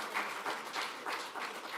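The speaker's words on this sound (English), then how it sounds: "please just a big round of applause for these great people for being so open" Audience applause at the Australian Photography Awards 2024 event, a steady wash of clapping from a crowd rising and falling in waves, moderately loud and without talk.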